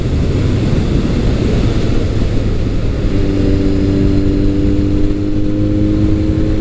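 Kawasaki ZRX1200R or Suzuki GS1100 retro motorcycle accelerating on the road, a loud continuous engine roar with heavy wind buffeting, the engine note rising and steadying partway through.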